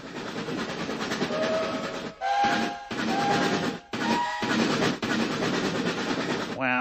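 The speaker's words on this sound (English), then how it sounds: "Hey, that's just like the train Gumby had." A cartoon toy train in a stop-motion toyland chugs steadily and loudly, its whistle sounding in short bursts broken by brief gaps, with no voices over it.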